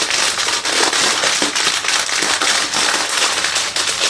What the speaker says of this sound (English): I never ever intentionally tried to do this. Alright, there's my crushed chips.